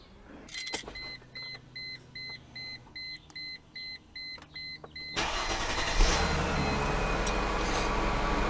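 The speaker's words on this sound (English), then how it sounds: "After you let the engine run for just a few minutes," Mercedes car engine cranks and catches at about five seconds, then idles steadily and fairly loud, preceded by a series of regular electronic warning beeps from the dashboard.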